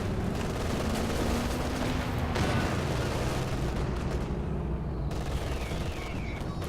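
Tank cannon fire and battle noise from the video game Company of Heroes 2 rumble in a dense, continuous barrage of booms and gunfire with no pauses.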